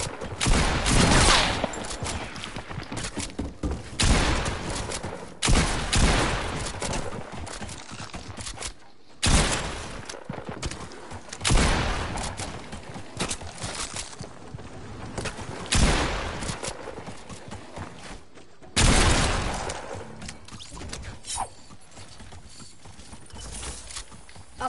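Bursts of gunfire from the video game Fortnite come in irregular loud volleys separated by brief pauses, harsh and broadband, with no talking.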